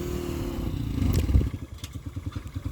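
A motorcycle engine labors loudly on a rain-soaked road, then sputters and chugs in uneven pulses as it struggles, with a clattering scrape midway.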